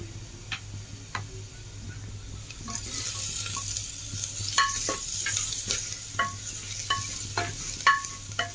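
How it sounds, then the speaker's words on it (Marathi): Onions with salt and turmeric stirred in a hot pan for chicken curry, giving a low sizzle under a run of sharp spoon ticks and scrapes that pick up pace in the second half, close and with no talking. "मीठ आणि हळद एकत्र मस्त आपण हलवून घेऊया"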